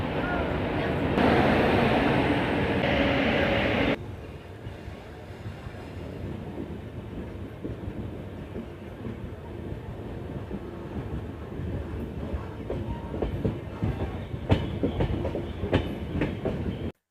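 Humsafar Express rolling out of New Delhi, heard from onboard as a steady low rumble with rhythmic wheel clacks over rail joints; a brief louder rush at the start gives way to continuous running noise.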